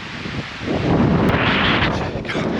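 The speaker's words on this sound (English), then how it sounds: "It's so windy. I'm going to try and cover the mic up." Loud wind buffets the microphone outdoors in Scotland, a rough low roar that swells and stays heavy throughout.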